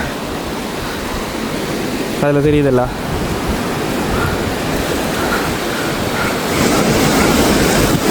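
Continuous rushing water noise, broad and steady, with a brief spoken remark partway through over the flow.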